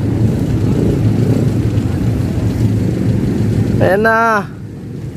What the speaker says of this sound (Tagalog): Mabilis po yung sinakay ating speedboat na yan.